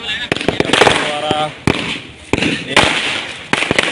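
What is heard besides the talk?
firecrackers bursting at celebration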